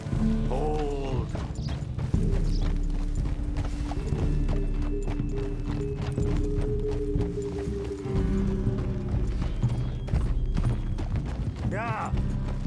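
Horse hooves clip-clop steadily during a ride in Red Dead Redemption 2, with a whinny or two, tack rattling and a low rumble, while voices talk over the ride.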